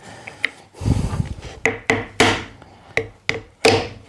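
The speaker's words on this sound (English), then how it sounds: "I'm hitting a flipping hammer, and the joint isn't breaking" A hammer repeatedly strikes a glued Festool Domino wood joint, giving about eight sharp, loud wooden knocks at an uneven pace, with a brief rubbing scrape between early blows, heard up close with no talk.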